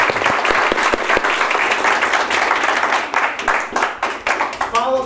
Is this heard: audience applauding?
yes